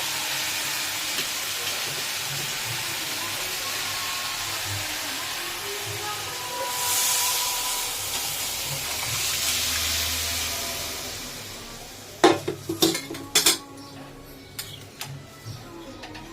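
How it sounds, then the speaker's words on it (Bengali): Lentil dal poured into a pan of jackfruit, a soft rushing hiss that swells midway, then a burst of sharp clattering taps from stirring near the end, close by, with no speech. "এবার মা ডালটা ওর মধ্যে ঢেলে দিচ্ছে"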